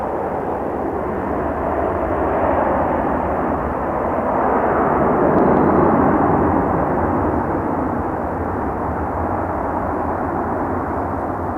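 A fixed-wing airliner takes off from a runway at Toronto Pearson Airport, its engines giving a loud, steady broadband roar that swells slightly mid-clip and holds throughout without any talk.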